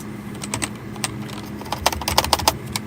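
Rapid, uneven clatter of keys on a computer keyboard, with bursts of fast typing growing denser toward the end, close and fairly loud, no voices.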